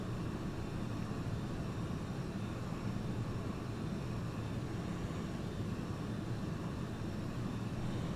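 A steady, even airplane engine drone from the Prepar3D v2 flight simulator game runs at a constant level throughout while flying around New York City, with no speech.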